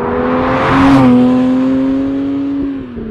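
A Porsche 991.2 GT3 RS Weissach with its high-revving naturally aspirated engine, heard from inside as the revs climb to a peak and then hold in a steady, loud tonal drone before easing off at the end.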